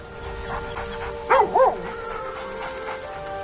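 A dog in the fantasy role-playing game Baldur's Gate 3 lets out two short, close, whining yelps in quick succession over a low steady game ambience.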